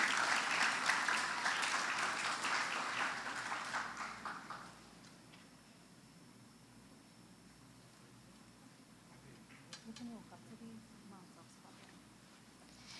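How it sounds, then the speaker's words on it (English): Audience applause greets the head girl at a school graduation ceremony, loud and dense for about five seconds before fading to a quiet room with scattered faint sounds. "Let's give a round of applause to welcome Jodi."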